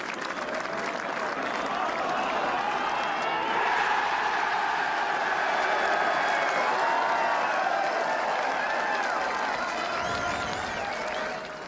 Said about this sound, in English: Listen to the roar of the crowd when this from Emiliano Grillo makes